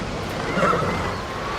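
A horse in the game Ghost of Tsushima gives a short, fairly faint whinny over a steady background bed, standing alone with no talk.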